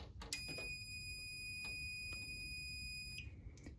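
A fire alarm control panel goes off during a system test, giving a steady high electronic tone with sharp clicks and beeps. It holds for about three seconds, then cuts off.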